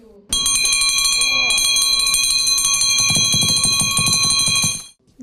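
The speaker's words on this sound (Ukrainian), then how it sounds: "Свято на подвір'ї стартувало з особливого моменту символічного дзвону" An old school bell rings loudly and continuously for about four and a half seconds, a bright metallic clang with a steady tone, close by.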